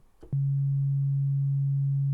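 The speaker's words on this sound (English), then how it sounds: "At this point I should hear just a sine wave," Steady pure sine wave from the Halion Sonic synthesizer's oscillator, a constant low hum sounding alone and unchanging after a brief click at its start.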